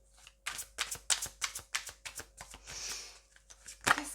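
Tarot cards riffled and slapped down in a rapid series of crisp, close papery bursts, with one longer smooth shuffle in the middle and a sharp flick at the end.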